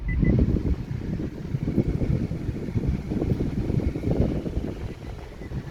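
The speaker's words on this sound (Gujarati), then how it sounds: "તમને એસીનું ફીડબેક દેખાડી દઉં" Air conditioning in a 2015 Honda City i-VTEC VX petrol CVT automatic with auto climate control blows as a steady, broad airy rush, loud and close, with no talk over it.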